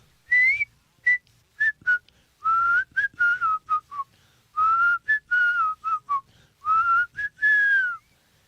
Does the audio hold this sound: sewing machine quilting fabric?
no